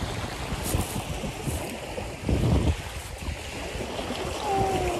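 Water washes at the shore of a bay, a close rushing wash of small waves mixed with wind buffeting the microphone, swelling louder in bursts, with no voices.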